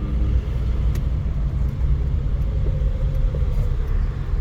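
Interior of a manual car while driving, with a steady, loud low engine and road rumble throughout and a couple of faint clicks, without talk.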